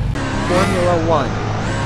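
A BMW car engine roars loudly and continuously, its pitch sweeping up and down as if revving or passing close by, with no pauses across the short burst.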